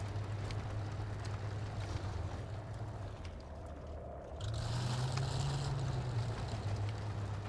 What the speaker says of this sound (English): So the Tiger 2s have their own engine sound, different from the normal Tiger.